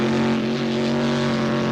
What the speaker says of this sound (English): Jim Dunn in his rear engine Barracuda on a checkout pass prior to eliminations